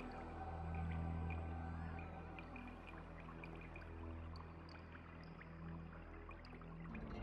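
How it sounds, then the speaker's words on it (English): NASA sonification of the spiral galaxy Messier 74, with stars turned into soft, scattered water drop plinks over sustained low whale-like tonal drones, faint and continuous. "The background stars in the optical image have been converted to water drop sounds in the sonification."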